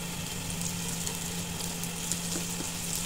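Ginger, onion and garlic sauté in a pan for a Bicol kinunot dish, giving a steady, moderately loud sizzle with a low hum underneath and a few soft stirring scrapes, no voices.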